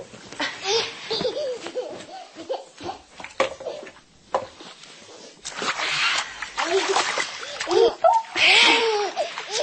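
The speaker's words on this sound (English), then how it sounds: "No splashing." A child splashes water in a bath, sloshing and spattering in bursts while an adult talks and the child laughs and giggles nearby.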